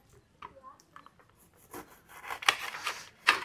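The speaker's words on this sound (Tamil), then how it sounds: "நல்லா 2 லெமனை கட் பண்ணியாச்சுங்க" Two lemons being cut with a knife in a home kitchen, giving scattered soft rubbing and rasping cuts that build to a couple of sharper, louder slices near the end, close by with no talk.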